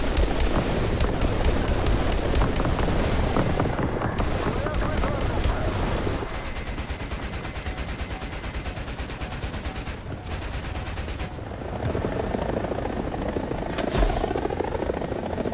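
Mi-28NM attack helicopter in War Thunder fires its cannon in long, rapid bursts over a loud, constant rotor drone, the gunfire pausing briefly midway before resuming.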